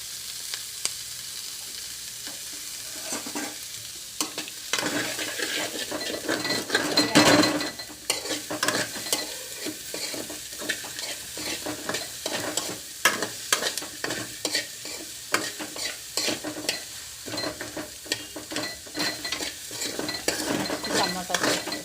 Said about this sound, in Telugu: బ్రౌన్ కలర్ వచ్చేవారు ఫ్రై చేసేసుకోవాలి.